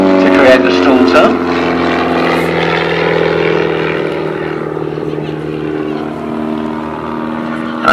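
A Pitts aerobatic biplane's engine drones loudly and steadily through a stall turn at an evening airshow, the pitch sliding downward as the aircraft pivots at the top.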